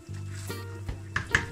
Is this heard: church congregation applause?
no